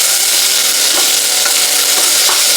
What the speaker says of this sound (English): So I always cook the onion first